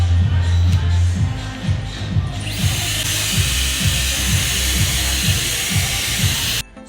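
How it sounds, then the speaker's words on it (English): A Dyson Airwrap hair styler blows a steady, loud airflow hiss during a curling demonstration, with a rhythmic low motor whir pulsing underneath and the rush brightening partway through before cutting off abruptly at the end. "It has the air wrap technology, so it will directly attract and wrap your hairs."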